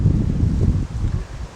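Wind blowing outdoors at the Ave Maria Grotto and Saint Bernard Abbey in Cullman, Alabama, a loud, gusty low rumble buffeting the microphone, with leaf rustle and no voices.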